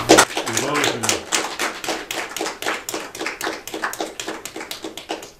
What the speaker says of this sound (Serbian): ali pre nego što oni krenu da ih pozdravimo jednim aplauzom